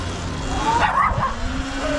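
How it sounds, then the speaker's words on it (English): A small loose dog barks at a passing Surron electric dirt bike rider on an LA street. A few quick, high yips sound close, over a steady hum from the bike. "Why is there a dog here?"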